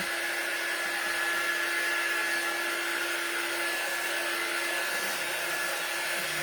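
A hair dryer blows steadily on a wooden board from a thrift store to dry a few spots, a loud, continuous whooshing drone with a constant whine and no talk.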